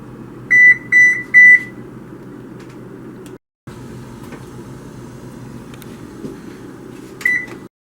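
A tray of sunflower seeds goes into a kitchen oven. Three quick electronic beeps sound, a door thuds shut, a quiet hum follows, then another single beep.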